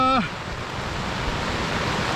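Broad, steady rushing of the flooded Nar river fills the clip, a constant roar with a brief tonal sound at the very start.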